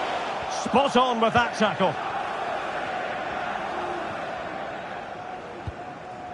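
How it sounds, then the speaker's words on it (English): A stadium crowd in EA Sports FC24 holds a steady, moderately loud roar while a commentator talks over it. "Well, just listen to the crowd."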